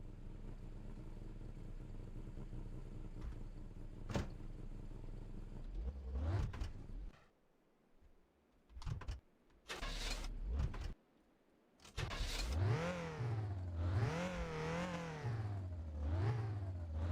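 Engine of a car in the game My Winter Car, whose gearbox is failing, is revved hard in bursts. It drones, cuts out to near silence twice, then climbs back in rising and falling revs that wave up and down. No one talks.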